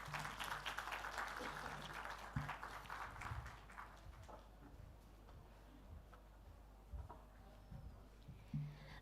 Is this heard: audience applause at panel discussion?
yes